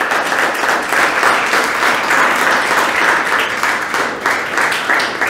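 A mushaira audience gives dense, steady applause, many hands clapping continuously at full volume with no break, a loud unbroken wash of crowd clapping.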